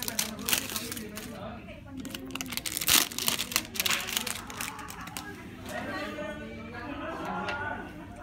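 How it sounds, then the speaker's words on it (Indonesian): Plastic wrapping on an iPhone X box is torn open close up, with crackly crinkling and ripping in several bursts while a person talks over it. "bunyi plastik kebuka"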